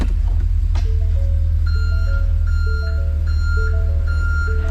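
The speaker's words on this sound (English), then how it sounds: "But let's back this thing up like another foot real quick." Steady two-tone backup beeps repeat in a regular rhythm over a loud, rumbling idling engine of a 2023 Ford F600 snow plow truck reversing, close by.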